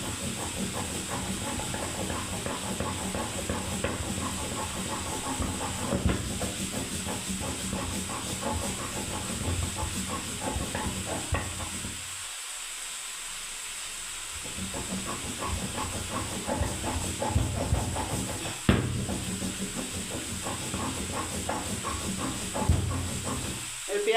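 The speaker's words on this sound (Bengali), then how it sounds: "ওই পোস্তটা আমি শিলনোড়ায় বেটে নিচ্ছি বন্ধুরা" Poppy seeds being ground on a shil-nora stone slab, with a continuous rough, rhythmic rubbing and grinding that stays close and steady, pausing briefly partway through.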